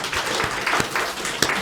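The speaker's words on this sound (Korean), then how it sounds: "우리 조수미 수지로 노래 앞으로 성장하도록 박수로 축복하겠습니다" A church congregation at a Christmas Sunday service claps after a hymn, a short, full burst of mixed hand claps with a few sharper individual claps standing out near the end.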